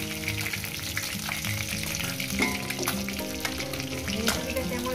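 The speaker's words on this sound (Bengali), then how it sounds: "মাছের মাথাগুলো একটু ভেজে নেব" Fish heads frying in hot oil in a pan, giving a steady, close sizzle throughout with faint stirring scrapes and some soft background music.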